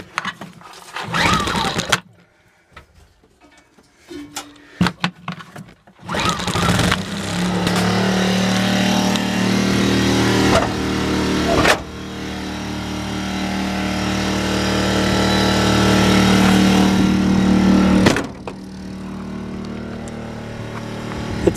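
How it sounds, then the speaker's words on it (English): A generator in a van build is pulled and cranked with a few short bursts, then catches and settles into a loud, steady engine drone that runs on before cutting off abruptly near the end. "I'll go ahead and start up the generator."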